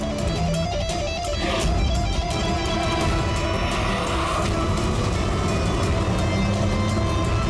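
A car engine roars and drives off, a loud continuous motor rumble with rising whine filling the whole stretch, no voices over it.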